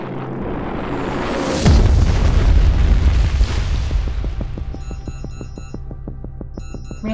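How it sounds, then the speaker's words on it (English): A CV-90 combat vehicle fires a missile that strikes and destroys a tank with a deep, rumbling boom, followed by a decaying roar and a repeating electronic beeping alarm. "CV-90 chooses to engage the target with a missile to destroy it"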